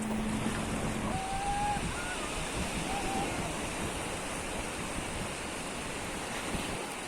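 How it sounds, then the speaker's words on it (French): Ocean waves roll onto a beach at night under a full moon, a steady broad wash of surf with wind noise on the microphone, continuous throughout. "Donc les vagues elles arrivent vraiment beaucoup plus près."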